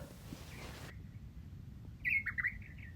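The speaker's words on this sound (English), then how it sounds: "Some of those birds are pretty intense and loud." Birds singing outdoors in bright Australian sunlight near a gum tree: a quiet outdoor bed, then a short burst of loud, close chirps and warbling calls.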